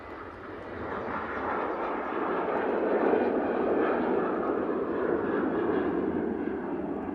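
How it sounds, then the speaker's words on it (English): A Ryanair Boeing 737-8 jet on its takeoff roll at Manchester Airport, a steady broadband engine roar building gradually and holding loud at a distance, with no voices over it. "Ryanair on the roll."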